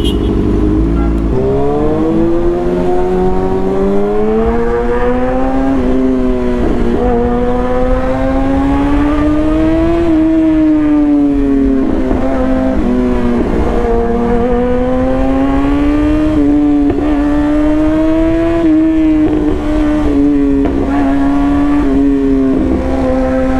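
Two Kawasaki ZX6R sport bikes, one fitted with an aftermarket exhaust, rev hard together, loud, close and continuous, their pitch climbing and falling in repeated throttle blips for over twenty seconds with no talking.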